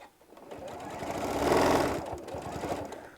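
A sewing machine stitches fabric along an edge, its motor whirring and needle ticking in a rapid run that swells in the middle and then eases, close and alone.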